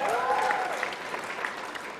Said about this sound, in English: Someone clap for that as well.